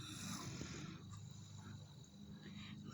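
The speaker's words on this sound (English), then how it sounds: "Listen to the deep snore." A sleeping man gives a deep, low snore that is quiet and sustained, heard close up over faint background hiss, with no talking.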